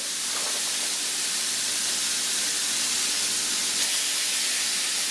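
A steak sizzles loudly in a hot pan for carne asada, a steady dense hiss that holds constant throughout without pause.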